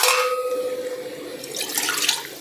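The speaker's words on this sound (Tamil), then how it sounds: "தக்காளி, உப்பு எல்லாமே போட்டு புளி எல்லாமே கரைச்சி வச்சுருக்கேன். இப்போ இதில் சேர்த்துடலாம்." Tamarind water pouring into a curry of tomato and salt, a steady splashing trickle that builds toward a louder gush at the end, with a faint whine in the background.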